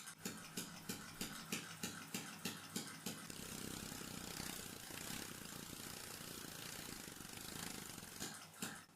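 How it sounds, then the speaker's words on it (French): A water-powered compressed-air engine runs in a test, first with a regular rapid chuffing pulse, then a smoother continuous hiss and whir, then pulsing again near the end, fairly faint. "le régime réduit a permis au réservoir de regagner de la pression et le moteur a repris de la vitesse"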